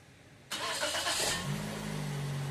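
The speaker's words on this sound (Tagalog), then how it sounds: "pa-start ko itong makina" A Toyota Vios engine cranks and catches after a silent start, the starter whir giving way to a loud, steady mid-pitched engine note that settles toward idle.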